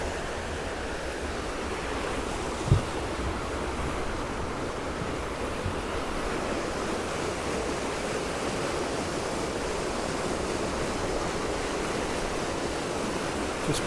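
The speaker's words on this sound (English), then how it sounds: "The amount of water that's coming through there was crazy." Water rushes steadily through a mill pool on the River Wensum at Fakenham, a constant broadband roar close to the microphone with a single brief knock near the start and no voices.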